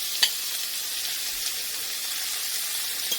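Salmon dropped into a hot pan with fragrant garlic, giving a steady, moderate sizzle and hiss that runs throughout, with a small clink near the start and no talking.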